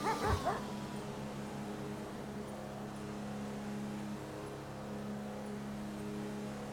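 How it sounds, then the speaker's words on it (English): A dog barks a few times in quick succession at the start, then a steady low vehicle hum carries on underneath in a GTA 5 roleplay police K9 patrol. "We're just going to have to hear a damn dog barking in the background the whole time."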